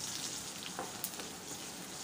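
Cumin tempering sautéed in oil for dal, a soft continuous sizzle with faint stirring scrapes, quiet and steady with no voices.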